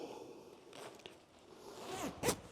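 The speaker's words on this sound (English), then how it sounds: "it's got a zipper" A zipper on a cheap spray jacket with elastic sleeves and a hood is drawn in a short rasping pull, ending in a brighter zip near the end, close and moderately quiet.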